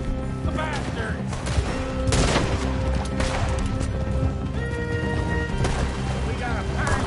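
Gunfire in Red Dead Redemption 2 during a river chase, scattered shots and sharp cracks mixed with hoofbeats, music and shouting voices throughout.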